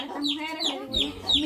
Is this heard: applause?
no